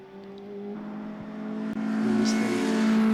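Historic Formula Junior race cars lap the Donington circuit, a steady, loud engine drone building as cars approach and pass, with a brief dip and a higher whine near the end, no voices.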